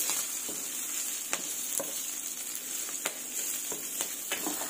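Green chillies fry in hot oil with a steady close sizzle, while a ladle stirs them through the pan, its scrapes and clinks breaking through the sizzle at irregular moments.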